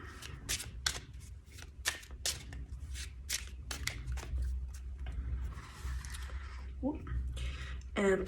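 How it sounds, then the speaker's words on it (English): An oracle deck of Botanical Inspirations cards is shuffled by hand in a series of quick, crisp riffles and flicks, close up, with someone speaking toward the end. "Give them a good shuffle."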